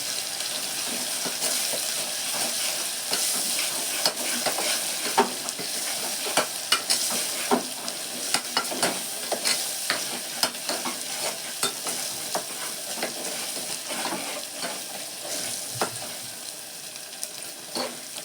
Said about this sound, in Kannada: ಒಂಚೂರು ಈರುಳ್ಳಿ ಫ್ರೈ ಆದಮೇಲೆ ಶುಂಠಿ ಬೆಳ್ಳುಳ್ಳಿ ಪೇಸ್ಟ್ ಹಾಕಬೇಕು